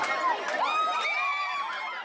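A crowd of families gathers at an Easter egg hunt after Mass at St. Anne's Church in New Jersey, with lively chatter and high children's shouts and squeals rising over a steady, close hubbub.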